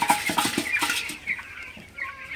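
Broiler chickens cluck in quick, sharp bursts close by, a dense flurry at first that thins into sparser calls with faint scratchy movement.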